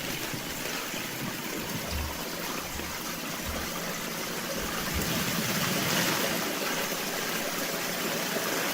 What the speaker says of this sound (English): He's pumping right now. Serious water coming out of there.